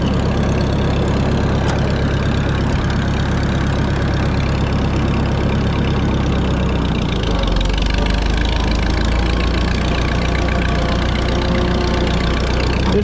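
A tractor engine idles steadily and close by, a continuous low rumble that holds unchanged throughout with no breaks.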